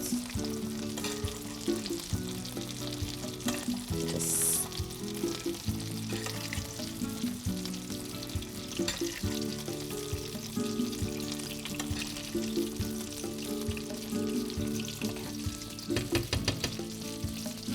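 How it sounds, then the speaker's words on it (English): Salmon fries in a covered pan with brown butter and olive oil, giving a steady, close sizzle that carries through the whole stretch with no talk over it. "it steams it up really well and fries it at the same time"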